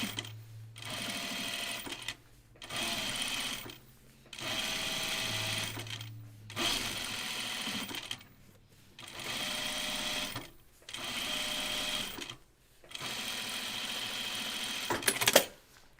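A home sewing machine stitches a seam on a Kelly anorak in repeated bursts of rapid, close mechanical whirring, each lasting a second or two and separated by short pauses, with a faint clunk near the end.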